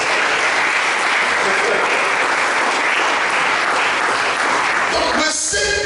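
A congregation applauds the Lord at a Pentecost seminar, dense continuous clapping filling the room, with voices mixed in and a shout near the end.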